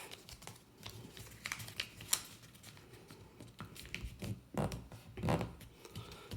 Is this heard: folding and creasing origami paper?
yes